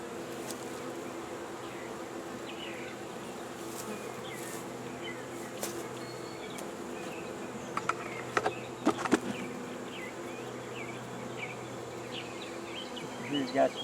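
Honey bees buzz around an open beehive in a steady, close, droning hum that holds for the whole stretch, with a few soft clicks and knocks from handling the hive partway through.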